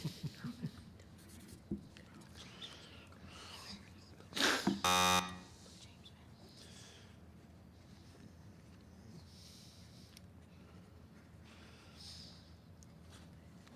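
A short, loud electronic quiz buzzer sounds once in a quiet room during a middle-school quiz show, with faint background murmurs before and after.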